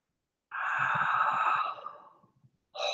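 One slow, deep breath is taken during a guided meditation, a long airy sound lasting over a second. It is close and soft, fades out, and is followed by silence.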